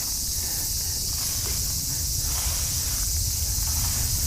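A dense, continuous high-pitched trill of crickets fills the clip in an overgrown Tokyo allotment garden in August, steady and loud, with faint rustling underneath.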